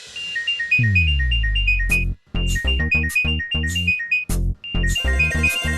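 A phone ringtone announces an incoming call: a loud, bright electronic melody of repeating beeping notes with short pauses and a swelling low tone near the start.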